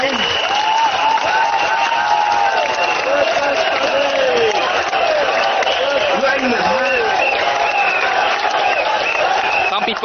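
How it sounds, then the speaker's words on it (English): A large crowd at a Workers' Party election rally in Singapore applauds and cheers continuously for a candidate, a loud, unbroken roar with voices and shouts mixed through it. "people are actually standing up to cheer for the candidate"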